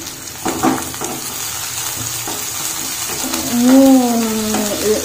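Mutton is mixed and fried in mustard oil in a kadhai, a continuous sizzle with scraping, clattering stirs against the metal that grow louder toward the end.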